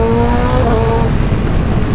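A BMW M1000RR superbike in race mode, its engine held at a loud, steady high rev that then drops into a rougher, lower roar, heard up close with no talking.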